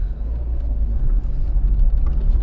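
A Talbot Solara LS saloon from the 1980s with a 5-speed manual gearbox pulling away, its low engine rumble steady and close from inside the cabin, no voices.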